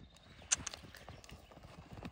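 Hooves clip-clop in a steady, fairly quick rhythm on firm ground, with a few sharper clicks mixed in, heard from a short distance.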